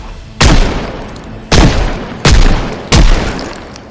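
Four heavy gunshot blasts from a video game zombie hunt, spaced irregularly over a few seconds, each a loud sharp crack with a rumbling tail, no talking.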